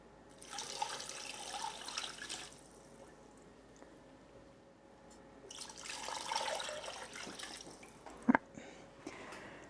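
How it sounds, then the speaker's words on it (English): Cold water runs and splashes into a stockpot in two separate pours, fairly close, with a brief clink in between and quiet kitchen noise. "I'm going to cover this by at least 2 inches of water"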